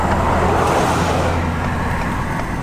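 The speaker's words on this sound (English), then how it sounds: "The Ford passed me." A Ford vehicle passes on the road, heard from inside a moving 2019 Ford F450 Lariat dually diesel truck as a steady, loud roar of road and engine noise that eases slightly as the pass completes.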